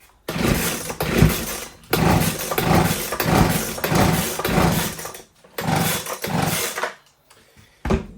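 Someone makes repeated pull-start attempts on a Husqvarna 125B two-stroke leaf blower: four or five loud, ragged bursts of cranking and rattling separated by short pauses, close by, with no sign that the engine catches.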